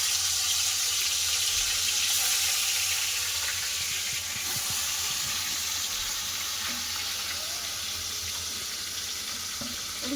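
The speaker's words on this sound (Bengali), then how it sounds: "মাছ ভাজা হচ্ছে" Fish fries in hot mustard oil in a wok, a loud, steady, close sizzle with a watery hiss running throughout and a few faint knocks, no talking.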